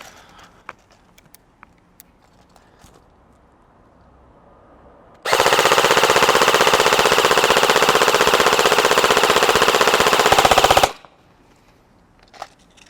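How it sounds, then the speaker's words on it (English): Helios Knight's Armament SR-16E Mod2 airsoft AEG fired full auto, one loud continuous buzzing burst of rapid shots lasting about five seconds, with quiet outdoor ambience before and after. "let's head back to that cone and do some full auto fire"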